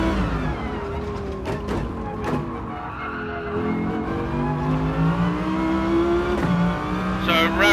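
Race car engine in a video game, run in fuel save mode with very early upshifts, droning steadily with rising pitch sweeps that drop at each quick shift, continuous and close, under occasional talk.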